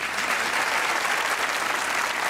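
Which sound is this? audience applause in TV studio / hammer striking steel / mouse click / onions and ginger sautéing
audience applause in TV studio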